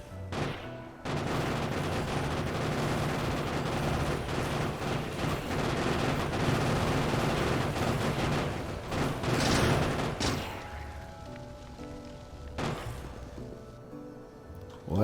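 Dense, sustained barrage of artillery shells and turret fire in the factory game Factorio as a raiding party attacks, a steady rumbling clatter of shots for about ten seconds before thinning out to a few scattered blasts.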